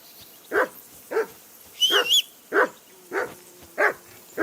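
A dog in the video game Kingdom Come: Deliverance II barks repeatedly in a steady rhythm, about seven loud, sharp barks close by, with a brief whistle-like tone in the middle.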